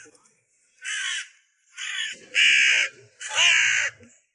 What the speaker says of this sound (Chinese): 我嫌乌鸦吵